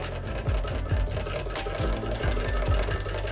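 A sewing machine runs steadily while stitching along a drawn line during neck-shape practice, a loud continuous mechanical whir with a rhythmic needle pulse.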